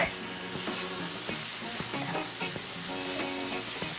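Vegetables, spices and garlic fry in a hot pan with a steady, close crackling sizzle, broken by occasional scraping stir strokes throughout.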